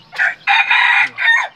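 A red rooster, red junglefowl or brugo chicken, crows loudly and close by in one long, shrill, multi-part call.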